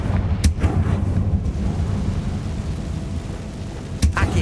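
In the video game Hogwarts Legacy, a Confringo explosion spell goes off, with sharp booming blasts at the start and end over a low, rumbling roar.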